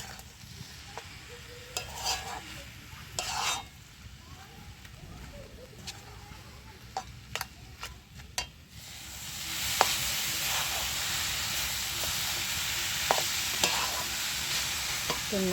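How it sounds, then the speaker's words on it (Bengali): Grated coconut with crushed cardamom being stirred in a pan for coconut laddoos, scattered scraping strokes over a low background, with the sizzle growing louder and steadier in the second half. "ভালো করে নেড়ে চড়ে নারকেলটা রেডি করে নিতে হবে।"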